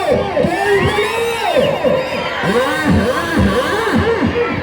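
A crowd shouts and cheers at a bullock cart pulling competition in Vavilala, four-tooth bull category. Loud, continuous spectator yelling with rising and falling voices fills the whole stretch.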